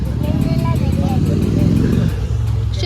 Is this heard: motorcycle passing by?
yes